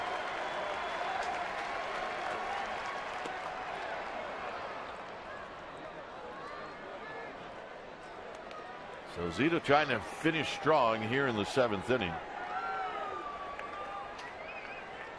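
A baseball stadium crowd during a 2013 Rockies at Giants game in San Francisco, late innings, keeps up a steady roar and murmur beneath a play-by-play commentator, swelling briefly with a burst of rhythmic, rising noise midway.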